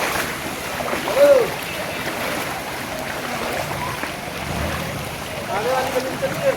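People wade through waist-deep rainwater flooding the streets and lanes of Sangam Vihar, Delhi, with steady sloshing and splashing, a few louder surges, and murmuring voices in the background.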